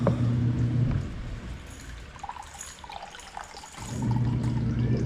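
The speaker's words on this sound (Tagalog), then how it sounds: "Inom tayo tubig." Drinking water pours steadily into a container, a continuous trickling stream running for about a second, easing off through a quieter middle stretch, then resuming strongly near the end.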